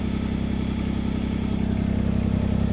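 A tractor engine fitted with a backhoe, running in high range at about 1300 RPM, labours steadily up a slight grade with a constant low, loaded drone and no talking.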